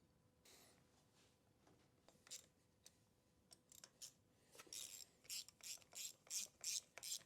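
A hand ratchet clicks as it tightens the cam cover bolts on a 1993 Yamaha Big Bear 350 ATV, a few scattered ticks at first, then a run of loud, rhythmic ratcheting strokes close by.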